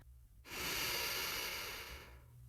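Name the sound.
slow breath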